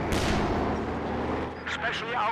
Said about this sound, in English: Double mortars, by the way.